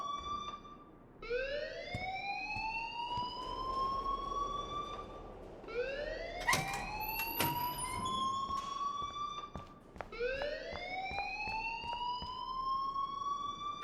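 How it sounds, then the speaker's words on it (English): A school alarm in Life is Strange wails in repeated rising siren sweeps, three long loud cycles with brief clattering sounds in between. "please turn off that alarm since that's your job"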